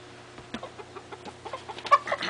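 Young laying hens about twenty weeks old, newly settled in a fresh coop, give a run of soft, rapid clucks close by, with a sharper note near the end and no talk over them.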